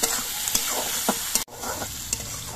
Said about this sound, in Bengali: পেঁয়াজগুলো ভাজার সময় এর মধ্যে আমি কয়েকটা চেরা কাঁচা লঙ্কা দিয়ে দিচ্ছি পরিমাণ মতো নুন।